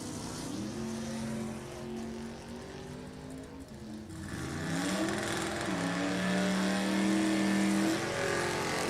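A Pontiac Firebird and a brand new blue Camaro launch side by side at a drag strip, one engine revving and fading before a second loud surge of rising acceleration carries to the end, no voices heard.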